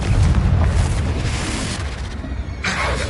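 A Confringo blasting spell detonates in Hogwarts Legacy with a loud, deep rumbling boom that fills the whole moment, then decays into a rolling tail before a brighter crackle near the end.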